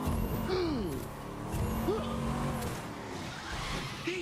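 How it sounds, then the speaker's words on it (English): Handbrake skid of a Cadillac Coupe DeVille cab in The Crew 2, a short tire squeal and slide riding over a steady engine drone, with a brief chirp or two later on. "I hit the handbrake there a little bit on that turn to make sure it turns"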